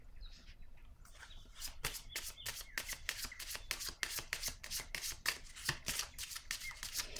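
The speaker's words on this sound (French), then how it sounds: "Je vais déposer une carte sur l'empereur." Tarot cards are handled and laid down in a rapid run of crisp flicks and riffling snaps, close and fairly quiet, with no speech over them.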